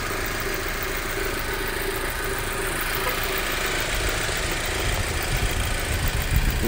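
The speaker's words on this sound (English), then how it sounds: "2006 Audi A4. Four-cylinder turbo, runs good." A 2006 Audi A4 with a four-cylinder turbo engine running steadily at idle, a close, even mechanical hum and whir with a slight rise in rumble near the end, no talking.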